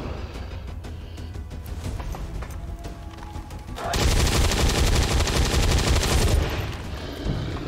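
Rapid automatic gunfire in XCOM 2 aimed at a Faceless alien: quieter clicking and shots first, then a loud, dense burst of rattling fire for about two and a half seconds, ending abruptly.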